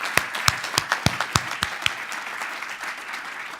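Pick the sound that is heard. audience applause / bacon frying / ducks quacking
audience applause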